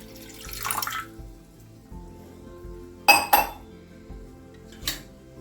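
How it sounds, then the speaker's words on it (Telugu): Water from a half glass poured into a pan set on a lit stove, with clinks of metal cookware and short splashing bursts, close and alone without talk. "పొయ్యి వెలిగించుకొని ఇందులో ఇప్పుడు 1/2 గ్లాసు వాటర్ వేసుకుందాం."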